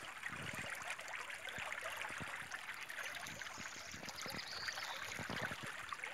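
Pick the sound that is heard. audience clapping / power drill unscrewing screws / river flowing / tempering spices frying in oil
river flowing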